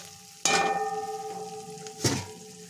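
Potatoes and cauliflower, with chilli paste, stir-fried in a pan: two sharp sizzling bursts as the vegetables are tossed and stirred, with a quieter frying hiss in between.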